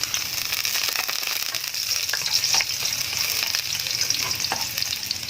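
Garlic fries in cooking oil with a loud, constant close-up sizzle and occasional faint clinks of a stirring utensil.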